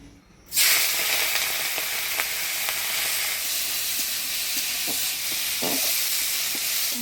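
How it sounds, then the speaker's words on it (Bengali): Fish hits hot oil with a sudden loud sizzle in a village-style Bengali kitchen, then keeps frying in a steady close hiss with occasional pops and spatters. "মাছগুলো ভাজি নিই"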